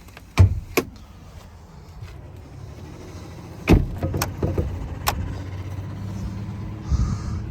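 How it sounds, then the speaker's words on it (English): On a 2022 Ford Bronco Black Diamond Sasquatch, the door unlatches with sharp clicks and thuds while the power window motor hums, then more clunks and a brief whir follow over faint outdoor background. "The windows come down when you release the door to clear the edge of the top."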